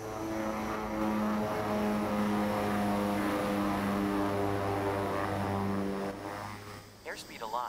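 The propellers of a King Air 350 in X-Plane 11 roar at full power, a loud, steady, droning hum with a strong tonal pulse that holds for most of the clip before easing off near the end.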